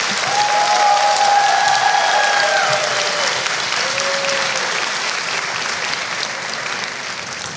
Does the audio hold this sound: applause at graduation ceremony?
yes